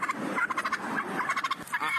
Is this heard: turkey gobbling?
yes